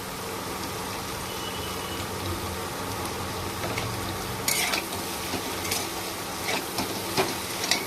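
A semolina and chicken mixture with chopped vegetables is stirred and fried in a pan, giving a continuous close sizzle broken by scraping and a few sharp clinks of a utensil against the metal.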